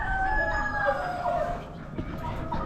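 Chickens cluck and a rooster crows at an Amish animal auction, a loud, busy mix of fowl calls filling the space continuously.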